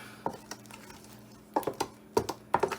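Spoon clinking and scraping in a bowl while mixing Jamaican black rum Christmas cake ingredients with a splash of Red Label wine added, in short irregular bursts of close knocks and scrapes with pauses between.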